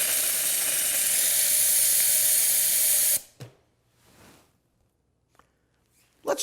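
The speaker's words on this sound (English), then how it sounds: "So let's see if this machine shoots steam or water." A kashering machine lets out a loud, steady burst of hissing steam or boiling water for about three seconds, then stops sharply, leaving a few faint clicks and soft rustles.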